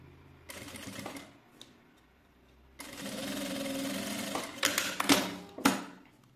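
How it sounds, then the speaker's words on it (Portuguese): A domestic sewing machine stitches bias binding onto a small pocket, running in a steady mechanical whir for a few seconds, then again in a longer burst with a few sharp clicks and handling knocks near the end. "vou passar uma costura para fazer o acabamento desse bolsinho"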